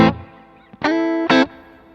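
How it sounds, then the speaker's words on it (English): Three guitar notes are played in turn, the last two ringing long, each bathed in a soft reverb tail that fades into quiet. "it's a really great sounding reverb"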